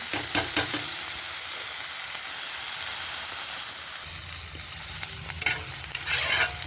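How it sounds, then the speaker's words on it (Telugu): Ponnaganti greens fry in a pan with salt and green chilies, giving a continuous close hiss and sizzle with occasional stirring scrapes that grow busier toward the end, and no voices. "దీన్ని అంతే ఉప్పు, కారం వేసి ఫ్రై చేస్తాను"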